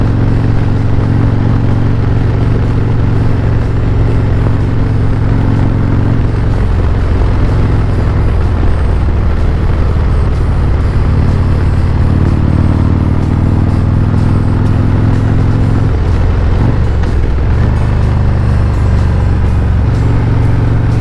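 A Harley-Davidson Road Glide motorcycle rides Tennessee backroads with a loud, close engine rumble and wind roar throughout, its deep drone shifting in pitch several times as it changes gear and speed.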